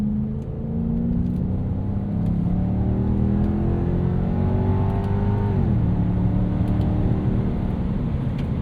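A 26-year-old Lexus with a five-speed gearbox pulls hard under acceleration, its engine note climbing steadily before a gear change drops the pitch and it builds again, loud and close with no one speaking.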